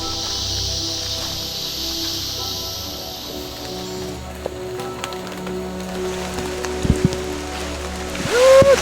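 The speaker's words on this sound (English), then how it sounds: "It's raining hard." Heavy tropical rain in La Fortuna, Costa Rica, a steady hiss of downpour on surfaces lasting throughout, with a few faint knocks and a brief higher tone near the end.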